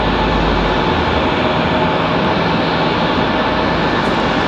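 An Aer Lingus airliner taxiing at Raleigh Durham International, producing a constant dense rumble of jet engines, loud and steady throughout with no speech.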